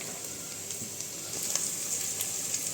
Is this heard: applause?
no